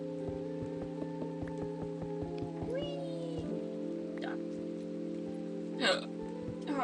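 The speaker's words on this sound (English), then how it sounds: "Hiccups." Someone playing a cozy video game hiccups once, a sharp near vocal burst over steady game music and faint ticking sounds.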